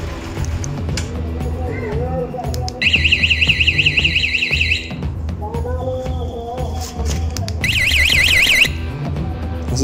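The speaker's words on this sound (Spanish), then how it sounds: "Así suena la alarma." An electronic alarm on a GTS 150 motorcycle blares in two loud bursts of rapid warbling tones, with shuffling and a voice talking in between.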